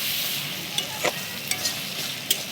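Onions frying in hot oil with cloves and cinnamon, browning for a Bengali chicken and potato curry: a steady close sizzle broken by a few light scrapes of a stirring spoon, with no talking.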